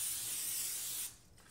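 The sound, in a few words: cooking spray sprayed onto baking pan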